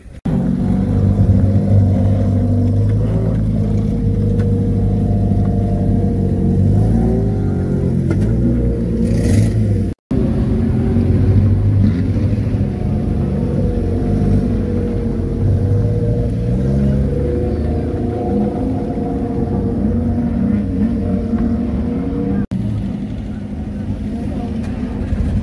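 Stock car engines idle and rev in a loud, continuous rumbling roar at a Warton mid-winter open meeting, the racing cars lined up on the grid, with a voice talking faintly over the engines.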